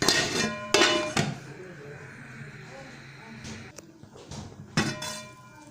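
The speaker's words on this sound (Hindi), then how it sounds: "अब इसके ऊपर मैं ढक्कन रख दूँगी ताकि हमारा पानी गर्म हो जाए" A metal lid is set onto a cooking pot of water being heated for vegetable pulao, giving a few sharp clanks and clinks near the start and again near the end, with quieter kitchen handling between.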